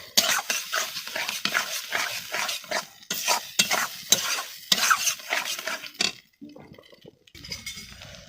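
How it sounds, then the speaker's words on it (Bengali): Lentils with spices are stirred in a pan, close and busy with repeated scraping strokes against the metal over a light sizzle, the stirring stopping briefly before a quieter pause. "ডালটা বেশ নেড়ে চেড়ে মশলাটার সঙ্গে মেশানো হয়ে গিয়েছে"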